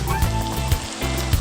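Curry leaves drop into hot oil in an egg stew, giving a loud, close sizzle with crackling bursts that swell and fade in quick pulses.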